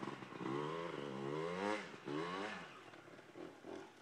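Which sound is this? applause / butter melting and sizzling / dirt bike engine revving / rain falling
dirt bike engine revving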